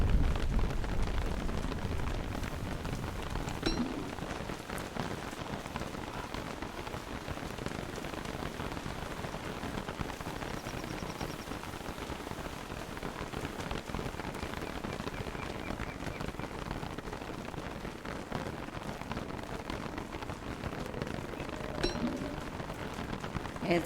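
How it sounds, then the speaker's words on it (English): Steady rain pours in the video game Don't Starve, a dense continuous patter of drops on the ground holding at an even level for the whole stretch with no talk over it. "It's really gonna rain."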